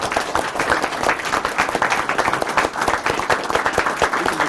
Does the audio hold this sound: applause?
yes